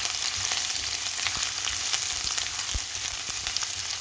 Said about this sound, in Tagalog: Dinagay ko na guys ang ating onion. Igisa lang natin.